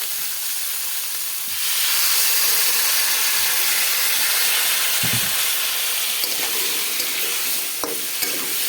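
A splash of water hits a hot pan of potato and papaya curry, bursting into a loud, broad steaming hiss that swells and holds, with a few soft stirring knocks near the end.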